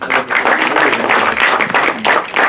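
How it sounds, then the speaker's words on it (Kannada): Applause from the audience at a short film press meet, a brief burst of loud, close, continuous hand clapping from a small crowd. "ಚಪ್ಪಾಳೆ ಬರಲಿ"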